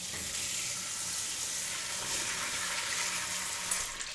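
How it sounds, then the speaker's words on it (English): Continuous hissing, rustling wash of water over LECA clay pebbles, steady and close with small rattles throughout and no voices. "LECA first, let's get washing."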